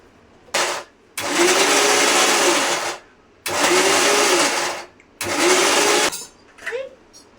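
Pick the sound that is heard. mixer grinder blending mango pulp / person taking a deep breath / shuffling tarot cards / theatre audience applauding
mixer grinder blending mango pulp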